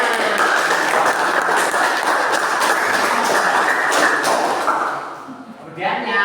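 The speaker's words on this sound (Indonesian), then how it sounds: "Oke, tepuk tangan." A classroom of students applauds a presenting group, a sustained dense wash of clapping held steadily for several seconds before tapering off, with a voice briefly at the end.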